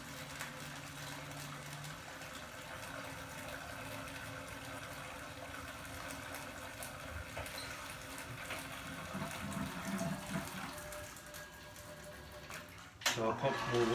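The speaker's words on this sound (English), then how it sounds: "I'm going to add water out of my hot liquor tank here to try to wash the sugars out of the grain" Hot water running from a hot liquor tank onto mashed grain while home-brewing a farmhouse lavender ale, a soft continuous trickle and wash kept low and steady, with a brief louder clatter close to the end.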